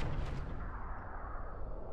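A single heavy gunshot boom from The Quiet Man video game hits at the start and then decays into a rumbling tail, loud and alone without speech.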